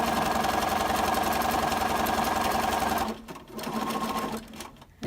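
A sewing machine stitches around an appliqué stem on a hosta quilt block, running in a steady, fast hum for about three seconds, pausing briefly, then whirring again in a shorter run before stopping.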